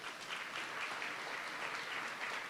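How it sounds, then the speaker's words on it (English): An audience at an agriculture sector conference in Regina applauds steadily, a dense wash of many hands clapping together, heard at moderate distance and fairly quiet. "Let's have another round of applause for Abby."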